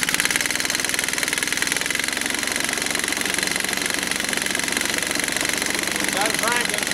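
A 1940 Evinrude Handitwin 3 HP outboard motor running in as-found condition, giving a steady, loud, rapid mechanical putter throughout, with a voice speaking over the engine.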